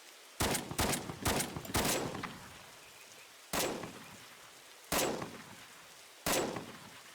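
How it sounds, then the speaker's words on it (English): Rifles fire in the Roblox game Blackhawk Rescue Mission 5 during a basic-training drill, sharp overlapping reports bunched in a rapid cluster, then single shots spaced a second or more apart, each with a short decaying tail. "you will fire your weapon 4 times"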